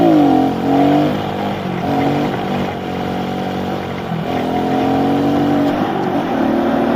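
A motorcycle engine revs hard and holds a loud, steady drone as the rider pulls a wheelie, pitch rising and dipping slightly with the throttle, close to the rider.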